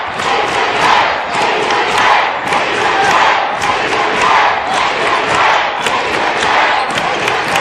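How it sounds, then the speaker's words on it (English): Two rival high school boys basketball crowds roar and cheer back and forth in a loud gym during an NHIAA Division 4 game, a steady dense wall of voices with rising swells and occasional thumps. "A little back and forth between these two crowds. Very loud in here."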